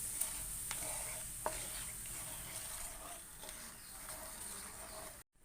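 Jaggery dissolves in a pot of boiling water while a spoon stirs it, giving a soft, continuous bubbling simmer with occasional faint scrapes and clicks close by.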